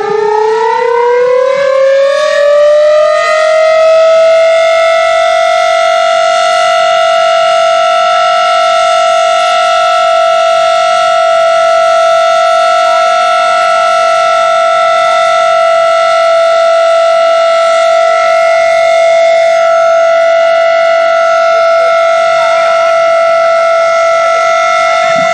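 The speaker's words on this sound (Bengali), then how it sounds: "সাইরেন শুরু হয়ে গেছে একদম।" A civil defense air raid siren wails without a break, rising at the start and then holding one loud, steady tone throughout, with no voices.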